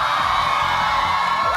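A studio audience at a Filipino Family Feud taping shouts and cheers in one loud, unbroken wall of crowd noise that holds steady throughout.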